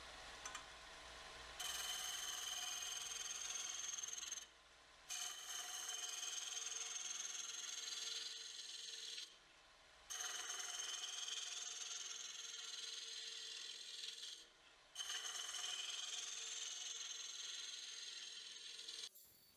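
A 3/4 inch spindle roughing gouge cuts wood on a lathe while shaping an epoxy resin ornament, giving a steady, loud ratcheting chatter broken by three short pauses as the tool lifts away.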